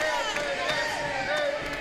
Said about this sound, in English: This crowd chanting for Adrian Matthews.